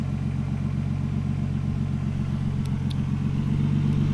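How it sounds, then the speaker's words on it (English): A 1991 Nissan Skyline GTS-T Type M engine idles steadily and close by, a continuous low rumble with a faint uneven stumble or cough in the running. "the engine started up with a couple of coughs, and it does cough a little bit while running"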